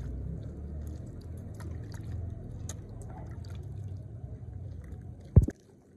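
Peeled palm fruit being rubbed and squeezed by hand in water, soft wet squishing and sloshing close by, ending in a sharper splash near the end.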